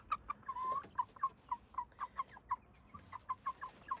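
Chickens of the Birkivska Barvysta breed cluck in a quick, uneven series of short calls, close by, with one longer drawn-out note early on.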